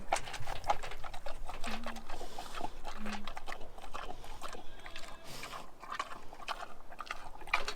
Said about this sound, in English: let's go feed some piggies